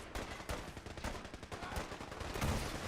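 Rapid, dense gunfire in the video game Fallout 4 rattles steadily in quick bursts, faint overall but continuous with no talk.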